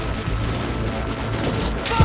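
Rapid gunfire from a firefight in the video game Cyberpunk 2077, a dense, loud, continuous burst of shots with a heavier impact right at the end.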